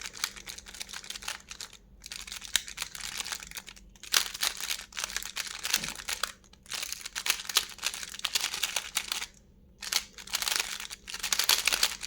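A lubricated speed cube turned quickly by hand, giving a steady stream of soft, slightly gummy clicks and crunches with a few brief pauses between bursts of turning, close up and without talk.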